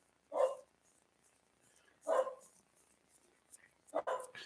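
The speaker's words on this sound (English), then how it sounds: "The dog is barking." A dog barks three separate times at spaced intervals, each a short, moderately loud bark in a quiet room, with only faint low background noise between them.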